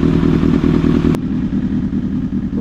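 A Kawasaki ZX6R sport bike idles at home to warm its engine before an oil change, a loud, close, even rumble with a rapid pulsing beat that holds steady throughout.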